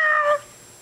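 A person's voice imitates a cat's meow, giving a single short, bright, tonal meow that fades quickly into quiet.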